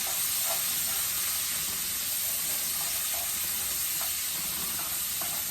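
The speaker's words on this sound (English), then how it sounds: "now let's saute our onions with our bacon" Onions sautéing with bacon in a pan give off a steady, even hiss and sizzle with faint scattered pops, close and continuous with no talking.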